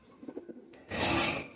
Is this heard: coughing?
no